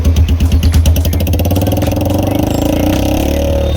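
A Royal Enfield Hunter 350 fitted with a Diabolus full-system black edition exhaust revs hard and close, its throaty rising drone settling into a steady rumbling note, with no talking.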